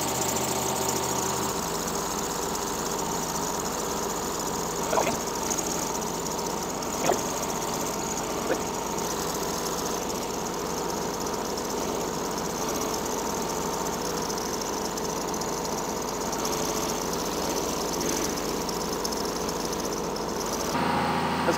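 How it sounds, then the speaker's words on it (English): John Deere excavator engine idling with its air-conditioning compressor clutch engaged, a steady, moderately quiet rumbling drone with a few faint clicks and knocks, continuous and without talk. "The clutch is engaged, the compressor's turning."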